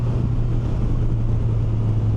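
Steady engine drone from a Kawasaki Versys 1100 SE inline-four motorcycle in sixth gear just under 4,000 rpm climbing a hill, a constant low hum mixed with wind rush and no change in pitch.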